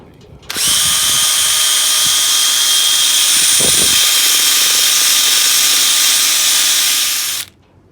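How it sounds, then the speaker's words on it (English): An impact drill whirs loudly and steadily for about seven seconds while cleaning a part, starting and stopping abruptly, with a few faint knocks beneath the whine. "I'm gonna start cleaning this using an impact drill with this piece."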